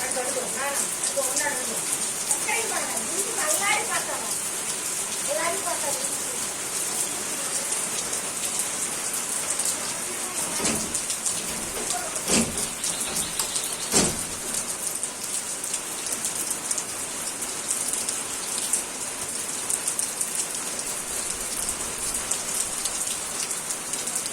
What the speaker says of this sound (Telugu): ఈరోజు ఉదయం నుంచి ఆగకుండా వర్షం కురుస్తూనే ఉంది ఫ్రెండ్స్